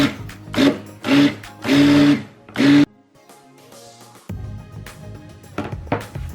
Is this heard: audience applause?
no